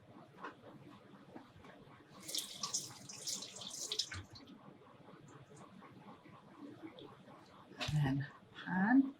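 Tap water runs into a kitchen sink as freshly peeled potatoes are rinsed, a steady splashing stream in the middle of the clip, with clattering handling noises and a brief clunk near the end.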